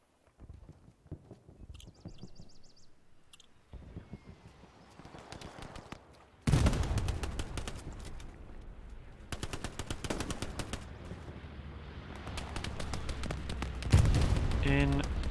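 Gunfire in the WWII shooter Hell Let Loose: sparse distant shots at first, then loud sustained bursts of automatic fire, close and heavy, continuing to the end.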